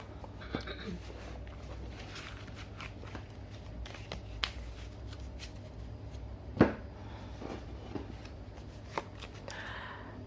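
Tarot cards are shuffled and drawn for a reading, a steady soft riffling texture broken by a few sharp flicks and snaps as cards are pulled, quiet and close, with faint low background hum.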